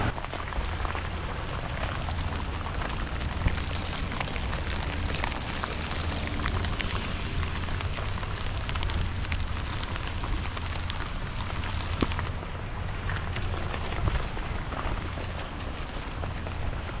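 Hail pelts down outdoors in Yellowstone on a June day as water starts to flood, a dense, steady roar of impacts that stays even and unbroken throughout, with no voices.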